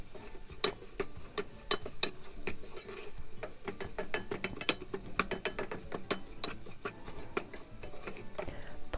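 Semolina roasting in a pan, stirred continually with a spoon that gives rapid irregular scraping and clicking against the metal, a busy, fairly faint texture that runs steadily throughout.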